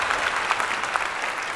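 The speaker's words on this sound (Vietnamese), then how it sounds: "Rồi vô trang vỗ tay dành cho Bảo Khánh." A short burst of TV game show studio audience applause, many hands clapping steadily and fairly close.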